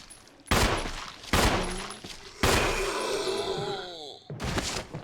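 Loud, close gunshots in Resident Evil: four separate heavy blasts, each with a long ringing decay, with a quieter stretch before the first.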